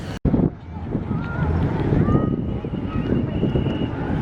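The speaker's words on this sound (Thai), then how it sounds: "อันนี้ลมเนาะ" Strong wind buffets the microphone outdoors on an open square in Phnom Penh, Cambodia, a steady low roar that stays loud throughout, with faint speech mixed in under it.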